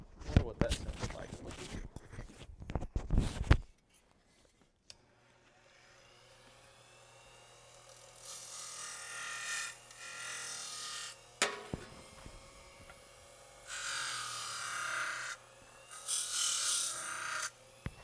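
A grinder fitted with a wheel works on the trim of a barn-find Buick in bursts of harsh, high rasping scrape. Loud clattering handling comes first, then a quiet hum runs beneath the later grinding passes.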